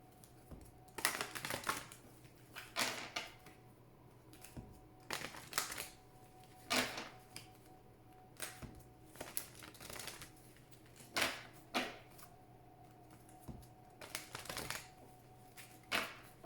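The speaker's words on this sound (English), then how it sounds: "as I shuffle the cards" Oracle cards are shuffled in repeated short riffling bursts, each a quick crisp flutter, separated by brief pauses, fairly close and moderately quiet.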